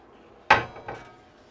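A stainless steel range cover in an RV kitchen is lifted, giving one sharp metallic clank followed by a softer second knock, close and alone.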